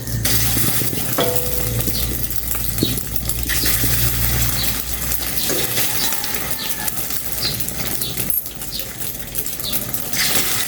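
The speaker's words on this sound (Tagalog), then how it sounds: "Iprito ko na iprito." Steady crackling sizzle of food frying in a pan, continuous throughout with occasional clinks and scraping from a utensil, close up and without talk.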